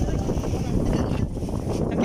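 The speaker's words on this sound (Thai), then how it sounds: "เสียงลมอยู่ในนี้พุ่นเลย" Wind roars steadily across a boat at sea, a dense rushing buffeting against the microphone that lasts the whole stretch, with no clear speech.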